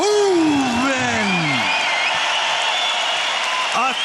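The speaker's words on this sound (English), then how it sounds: "A thunderous applause from the Dutch faithful here in Amsterdam" A Dutch crowd in Amsterdam applauds and cheers loudly for hometown kickboxer Rico Verhoeven after a title fight, a dense steady roar of clapping with an announcer's voice ringing over the first seconds.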